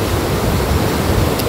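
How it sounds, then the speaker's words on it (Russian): A fast-flowing mountain river near Elbrus rushes with a steady, broad roar of water, loud and close, with no voices over it. "горная река."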